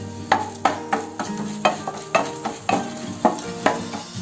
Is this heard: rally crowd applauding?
no